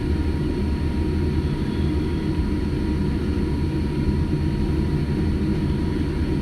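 Cabin noise inside a JAL Boeing 787-9 Dreamliner rolling out after a gusty-wind landing on runway 25R at Frankfurt: a steady, loud, low rumble with constant broadband roar and no talking.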